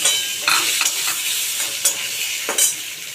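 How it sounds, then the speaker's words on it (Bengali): Bay leaf and a dried red chilli are tempered in hot oil in a kadai, giving a steady bright sizzle with occasional louder scraping stirs, close up and with no talking. "তেজপাতা ফোড়ন দিলাম"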